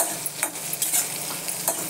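Green chillies roast in a hot pan for thecha, a soft continuous sizzle with scraping stir strokes at close range, no voices.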